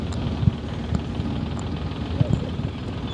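A helicopter flying over a cricket ground in Hong Kong, a steady low rotor throb with faint periodic thumps, distant and fairly quiet, under light background noise.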